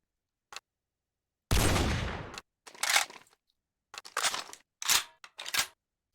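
A Barrett M107 .50 cal rifle in the World of Guns simulation is reloaded and unloaded, giving a string of crisp metallic clacks and a longer sliding rattle, each action standing alone against silence.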